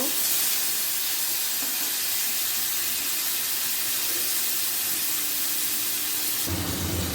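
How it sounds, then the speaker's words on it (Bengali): Prawns sizzle in hot oil with black cumin, a dense steady hiss that stays loud and close across the whole stretch with no voices. "চিংড়ি মাছটা একটু ভাজা ভাজা করে নেব"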